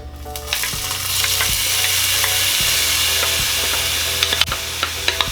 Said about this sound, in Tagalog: Ngayong mainit na po yung ating oil, ay pwede na nating unahing igisa tong ating luya